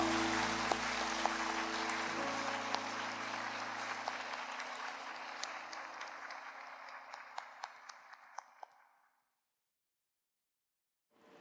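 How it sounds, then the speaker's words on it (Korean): Congregation applauding during a Korean-Japanese church worship service, sustained clapping that gradually fades out, then silence. "박수, 영광의 박수 올립시다."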